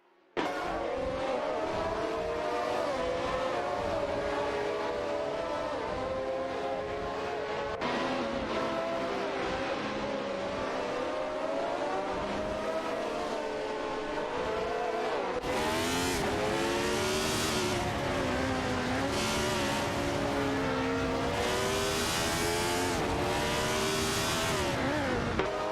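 Several race car engines in an AI racing video game roar continuously as one car overtakes another on the inside approaching a hairpin, with pitches rising and falling through gear changes and a louder, brighter surge in the second half.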